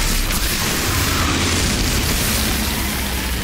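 Exploding bull enemies blow up in the Outriders video game, a loud, sustained booming blast that fills the whole stretch with dense rumbling noise and no talk over it.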